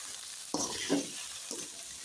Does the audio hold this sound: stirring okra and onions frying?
yes